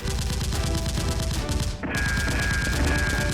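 Rapid automatic gunshot sound effects fire continuously in a fast, dense rhythm, loud and close, with a short break before the barrage resumes.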